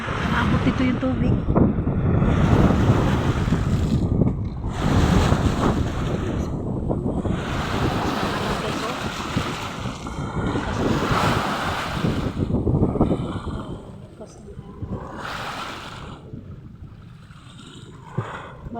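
Loud, continuous roar of surf and rushing water with heavy wind buffeting the microphone, surging and easing in broad swells.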